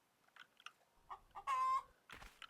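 Chicken clucking from an item in a video game: a few short, soft clucks, then one loud, sustained squawk, followed by more brief clucks, crisp and close against a quiet background.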